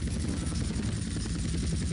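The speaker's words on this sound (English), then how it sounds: "This one get to use a Hunter helicopter." A Hunter military helicopter in the video game Grand Theft Auto: San Andreas gives off a steady, loud rotor thrum and engine whine that continues without a break.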